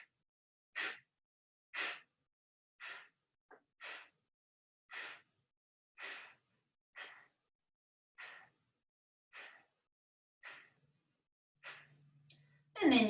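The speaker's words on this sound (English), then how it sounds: "exhale, you'll contract the abdomen and exhale through the nose. So you can visibly hear it." A series of about a dozen sharp, forceful nasal exhales, evenly spaced roughly one second apart, close and clear with silence between them, during a breathing exercise in a solar plexus vinyasa yoga practice.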